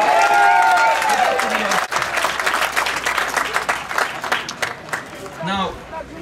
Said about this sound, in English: I was almost going to ask you, please hold off your applause